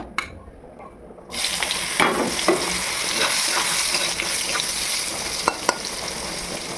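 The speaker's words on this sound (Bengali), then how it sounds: "এরপরে সয়াবিনগুলো ভেজে নেব" Soybean chunks fry in a pan, a continuous close sizzle that swells in after a quiet start, with occasional scraping and clinks of a spatula stirring them.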